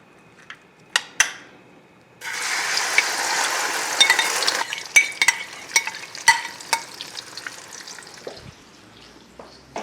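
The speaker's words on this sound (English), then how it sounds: "Okay, drop this in. This is your shrimp egg foo young." Shrimp egg foo young batter with onion and flour dropped into hot oil in a pan, setting off a sudden loud, steady sizzle with crackling pops and a few sharp utensil knocks before and during, up close with no talk.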